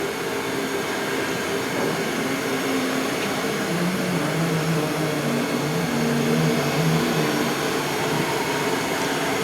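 Spindle of a 2002 Haas VF-2 CNC vertical mill with a geared spindle running at 3,000 RPM: a steady, loud mechanical whine and hum with a constant tone, close and unbroken, with no talking.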